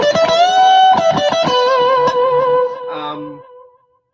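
Electric guitar with a distorted tone plays a short bluesy phrase, vibrato wavering on sustained notes before the last note rings out and fades to silence.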